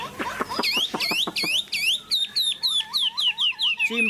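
A hwamei songbird, a golden three-colour bird, sings close by in a loud, varied run of sharp whistled phrases, first rapid chirps and then repeated looping notes.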